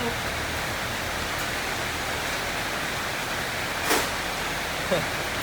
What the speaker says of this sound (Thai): โอ้ฝนตก